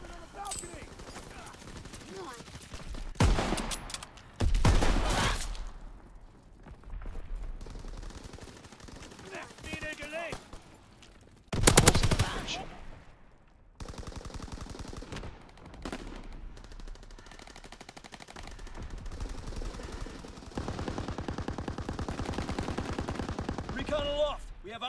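Gunfire in the Call of Duty WWII video game, with repeated loud bursts of automatic fire and single shots in several clusters over steady game noise and music.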